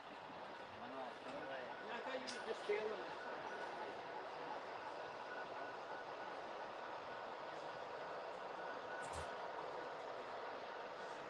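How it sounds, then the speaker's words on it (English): A Union Pacific Heritage model train rolls steadily along a layout at the Colorado Model Railroad Museum, a continuous mid-level rumble and hum carrying through the whole stretch, with a brief clank late on. "now you got to see the UP Heritage Train"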